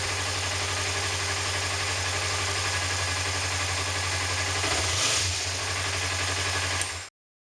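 Kawasaki Ninja 250 motorcycle fitted with an Ecotrons EFI kit and leaking fuel, its engine running at a steady close idle with a constant droning hum, a brief throttle blip near the end before it cuts off.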